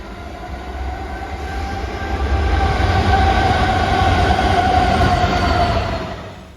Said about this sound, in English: Here comes the DB shed, which I have no idea where it's going, but it's turned around